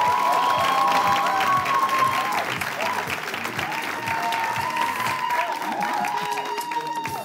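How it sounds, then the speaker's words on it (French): A studio audience at a live Togolese television show final claps and cheers in a loud, continuous roar, with shouting voices mixed into the sustained applause throughout. "Je veux qu'on fasse encore un tonnerre d'applaudissements pour LOL Cake."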